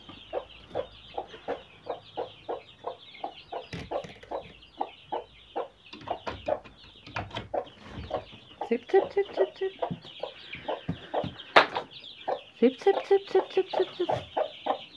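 Chickens shut inside a shed cluck in rapid repeated bursts at close range, a busy rhythmic chorus that grows louder and more excited toward the end, with occasional sharper squawks.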